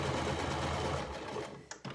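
A sewing machine runs a quick burst of stitching on the darts of a tailor's ham, forwards and backwards at a short stitch length, a close, fast mechanical whir that stops abruptly near the end.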